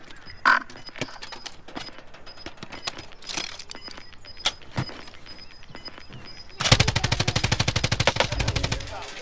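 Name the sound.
gunfire from the video game Call of Duty: Warzone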